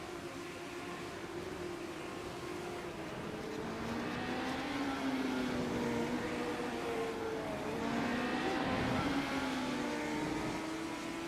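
Legend race cars in an iRacing sim race at Catalunya National, a pack of engines droning and shifting pitch together as they run close on track, steady and loud with no talk.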